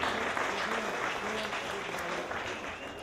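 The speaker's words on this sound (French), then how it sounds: "une main d'applaudissement pour Al Drapeau" An audience applauds Al Drapeau at a Quebec variety show, a steady wash of clapping from a seated crowd holding at an even level for the full few seconds, with a faint voice underneath.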